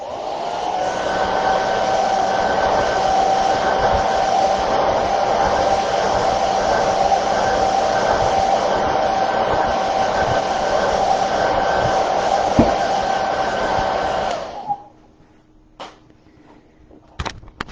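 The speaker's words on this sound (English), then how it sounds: "So we are going to do again with the blow dryer. Just heat it for about 15 seconds." A hair dryer blows continuously at close range, heating smart vinyl, with a steady whine for about fifteen seconds, then switches off, leaving faint clicks and quiet.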